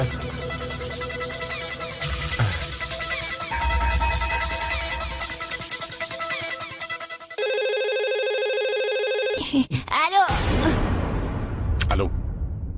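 A mobile phone plays a tonal ringtone that cuts in sharply after swooshing music and effects, ringing steadily for a couple of seconds before other loud sounds take over.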